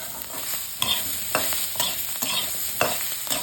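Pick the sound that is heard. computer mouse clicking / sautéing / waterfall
sautéing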